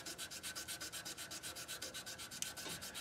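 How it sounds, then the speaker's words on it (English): Steady back-and-forth hand cross sanding of a brush, each rasping stroke evenly repeated in a quick, regular rhythm, close up with no voices. "So now we're going to do some cross sanding to sand out the sand marks that we just made."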